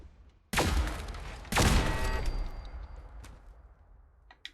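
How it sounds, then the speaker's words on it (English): In Fallout 4, a battery-powered weapon fires two loud, sharp shots about a second apart, each with a ringing tail that trails off, followed by faint clicks and a small tap near the end. "I like the fact that the battery goes down as you start popping off shots"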